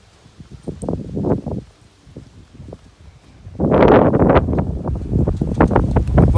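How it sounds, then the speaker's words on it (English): Gusty wind in the hills of Fairfield, Manchester, Jamaica buffets the microphone in rough bursts, quieter at first and then roaring louder and steadier in the second half. "my room, it's windy."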